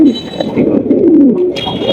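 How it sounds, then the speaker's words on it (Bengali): Large white Lahori pigeons, a cock calling loudly, give a deep rolling coo that swells and dips through a continuous two-second stretch, heard up close with no talk. "মাশাআল্লাহ অনেক বড় সাইজের কবুতর ডাকতেছে"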